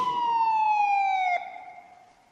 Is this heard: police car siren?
yes